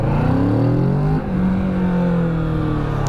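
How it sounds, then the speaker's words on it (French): A 2017 Kawasaki Z650 (A2) motorcycle engine revving up close, a loud steady drone with rising and falling pitch and a brief dip in the middle. "Ah oui, le moteur est carrément rageur"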